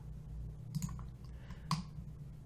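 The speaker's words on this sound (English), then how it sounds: "And you click OK." Two sharp computer mouse clicks, spaced about a second apart, sound close and alone against a low background hum while confirming a cut feature in SolidWorks.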